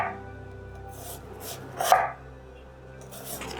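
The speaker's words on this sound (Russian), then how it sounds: "Итак, осталось нарезать лук. Нарезайте кольцами примерно по полсантиметра толщиной" A knife slicing an onion into rings on a board gives a few soft, close cuts spaced apart, one firmer chop near the middle standing out, with no voices.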